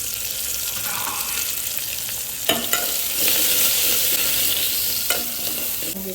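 Curry leaves, coriander, cumin and garlic sautéing in a pan for a green gram dish, a steady hiss of frying with a few sharp scraping stirs of a spoon.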